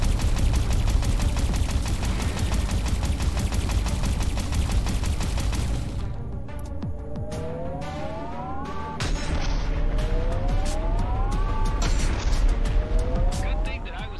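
Automatic weapon firing in the space shooter EVERSPACE 2, a rapid, steady stream of loud shots for several seconds, then giving way to whooshing, rising sweeps and scattered bursts.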